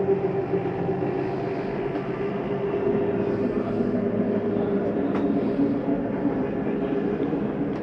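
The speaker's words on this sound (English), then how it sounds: "That's just the slide mechanism telling you it's all the way in." Slide-out mechanism of a 2023 Jayco Jayflight 265RLS RV retracting, a steady close mechanical rumble and whir that runs unbroken for several seconds, with a faint click partway through.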